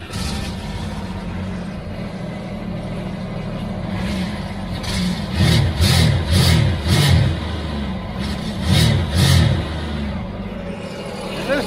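A Sea-Doo Spark jet ski engine being started for the first time after repair, running on a low battery: a steady mid-range engine hum with a series of rhythmic revving surges in the middle before it settles back to an even idle.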